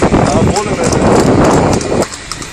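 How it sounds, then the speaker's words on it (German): Hooves of a horse-drawn carriage clip-clop in a steady rhythm close by on a street, under loud talking from people nearby. "Die Kutsche ist voll langsam, dann lassen wir überholen."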